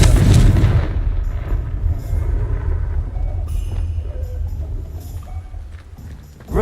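A Confringo fire spell explodes in the video game Hogwarts Legacy, a loud booming blast at the start that rumbles and slowly fades, followed by faint scattered clinks and crackles.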